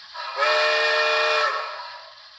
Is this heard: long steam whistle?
yes